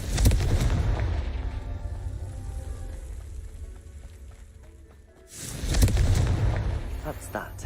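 Confringo fire spells burst in Hogwarts Legacy: a heavy booming blast with crackling debris that trails off over several seconds, then a second loud explosion hits near the end.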